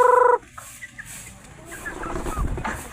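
Chickens cluck and gobble at close range after a brief tone, scattered calls over a busy background.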